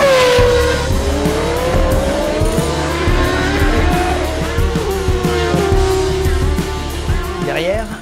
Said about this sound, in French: Schumacher enchaîne les meilleurs tours et remonte comme une balle sur Senna